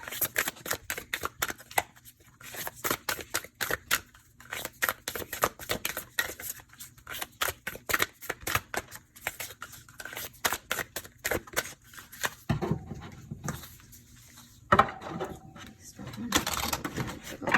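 Rapid, rhythmic riffling of tarot cards being shuffled close up, repeated in bursts, with a few softer handling sounds toward the end.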